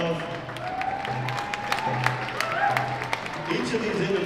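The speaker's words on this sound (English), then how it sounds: "can we give all these individuals a big round of applause" Audience applause at a Wellbriety round dance gathering, steady clapping and some cheering from a crowd, with talk mixed in underneath.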